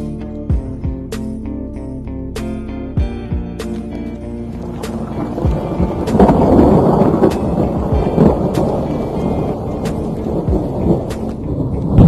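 Thunder rolls during a mountain storm, starting with sparse cracks and faint tonal hum, then swelling midway into a deep, sustained rumble that lingers to the end.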